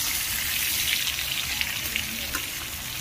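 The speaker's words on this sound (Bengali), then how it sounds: "পটল ভাজা হচ্ছে" Pointed gourd (potol) fries in a pan with a dense, hissing sizzle, loud and close, broken by a few faint clicks and pops, with no talking.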